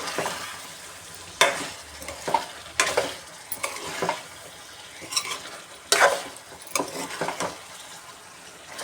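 Chicken dusted with chicken masala powder sizzles in a frying pan while a spoon stirs it in uneven bursts, with loud scraping strokes over the constant frying.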